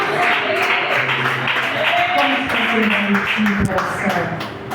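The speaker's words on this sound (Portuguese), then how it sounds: "As palmas que louvam o Senhor Jesus." A congregation at a church service claps in praise, dense sustained clapping from many hands in a reverberant room, with voices speaking and calling out over it.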